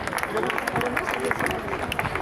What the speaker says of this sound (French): applaudissements pour le podium féminin.